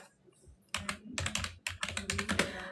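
Rapid bursts of keystrokes on a computer keyboard, close and fairly loud, arriving in uneven clusters after a quiet opening, with no voices over them.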